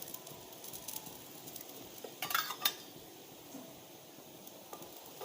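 Oil sizzling faintly around a flipped dhapate flatbread in a hot pan, a soft steady frying hiss with a couple of brief metallic utensil clicks partway through, close and quiet.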